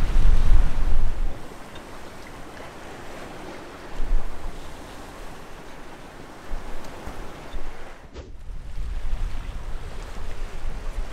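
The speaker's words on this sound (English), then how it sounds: "I'm literally surfing down" Rushing water and surf wash over steady wind noise, with a louder surge near the start and a brief dropout later as a sailboat under sail, without motor, surfs down waves near Hatchet Bay.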